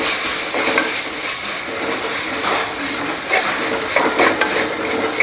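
Onions and tomato for a prawn curry sizzle in hot oil: a loud, steady hiss of frying, broken by occasional stirring scrapes in the pan, with no one speaking.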